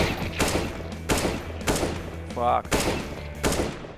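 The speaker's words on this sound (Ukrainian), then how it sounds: "Станемо і почнемо просто стріляти." Rapid bursts of gunfire in CS:GO, loud and repeated over a few seconds, with a short exclamation from a voice partway through.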